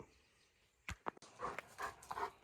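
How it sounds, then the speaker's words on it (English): A German Shepherd dog pants and huffs close by in a few short breathy bursts over quiet background noise, with no talking. "Yeah, attention-seeking dog."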